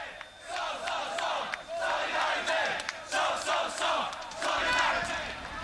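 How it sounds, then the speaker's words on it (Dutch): Demonstrators at a police barricade shout slogans together, a loud crowd of overlapping voices rising and falling in repeated bursts across the whole stretch. "Eenmaal bij de barricade blijft het bij het roepen van leuzen."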